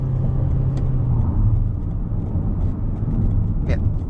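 A Toyota Corolla Cross Hybrid accelerating on a real road gives a steady, moderate engine and road hum from inside the cabin, with someone talking over it.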